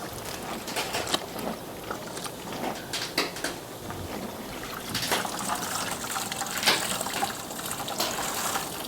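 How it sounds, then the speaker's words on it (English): Fabric being pushed down into a bath of liquid starch gives steady watery sloshing and trickling, with a few sharper splashes, close and moderately loud throughout. "submerge it in the starch and you make sure you get all of it in there"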